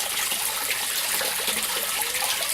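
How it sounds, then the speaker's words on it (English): Water in an aquaponics system pours and trickles into a sump tank, a steady splashing rush with small gurgles, close and continuous for the whole stretch. "everything drains into this sump tank"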